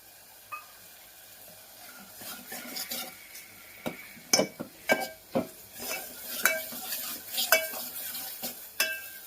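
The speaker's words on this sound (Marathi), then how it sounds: "पूर्णपणे आपला हा मसाला भाजलेला आहे" Spice masala with turmeric stirred and roasted in a pan, a soft steady sizzle under repeated scraping and clinking strokes of a spoon against the metal, close and fairly quiet.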